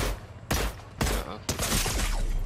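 Gunfire in a Fortnite match, with three loud sharp reports spaced about half a second apart, then a sustained burst of shooting near the end. Each blast rings broadband and is followed by a rumbling tail.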